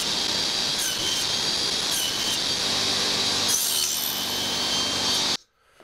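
A hand saw cuts wood for a half-lap joint on a table frame, working the waste away kerf by kerf. The sawing runs as a loud, continuous rasp close by for about five seconds, then stops abruptly into silence.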